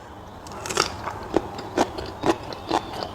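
Crisp bites into raw string beans eaten with buro, fermented rice, in a run of about six sharp, evenly spaced crunches, close and fairly loud, with no talking over them.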